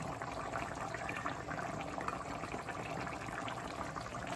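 A pot of mutton bhuna simmers and sizzles steadily on the stove, a continuous dense bubbling and frying hiss heard alone at moderate level.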